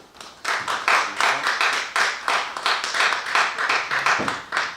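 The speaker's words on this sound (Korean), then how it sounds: "우리 박 목사님 박수로 환영해 주시기 바랍니다" A church assembly audience claps loudly to welcome a pastor, in strong rhythmic bursts of many hands that pulse repeatedly and evenly, close and clear with no talking.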